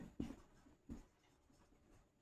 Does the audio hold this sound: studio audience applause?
no